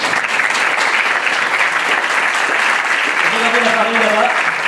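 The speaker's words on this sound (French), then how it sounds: "on vous applaudit parce qu'on vous kiffe vraiment." Loud, sustained applause from an audience at a digital-industry awards ceremony, a dense continuous clapping throughout, with a voice speaking over it near the end.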